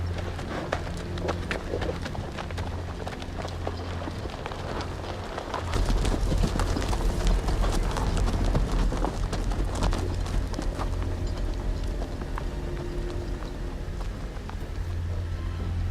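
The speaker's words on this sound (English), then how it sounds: "See, they're getting on their horses and they're leaving." Horses' hooves clip-clop steadily as riders leave in the Telltale Game of Thrones video game, a dense continuous clatter over a rain-like ambient wash that swells louder partway through.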